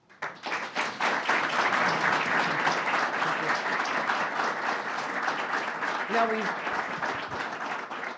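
A large crowd applauds steadily and loudly for several seconds, a dense wash of clapping that holds steady before easing slightly near the end.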